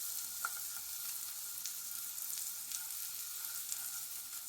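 Butter melting in a pan under a slice of bread for Korean street toast, a quiet, even sizzle with a few faint crackles, fairly soft and with no talking.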